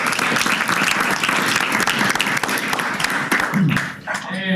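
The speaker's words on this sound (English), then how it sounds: "So round of applause." An audience at university final presentations bursts into dense, lively clapping that holds steady for several seconds and then thins as a voice starts to speak.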